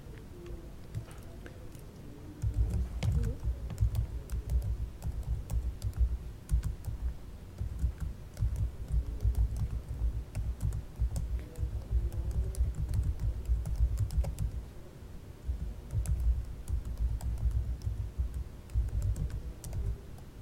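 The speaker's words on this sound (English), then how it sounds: "let me type this" Fingers type on a computer keyboard, a quiet pause giving way to a long, rapid run of close, crisp key clicks with a brief break midway before the typing resumes.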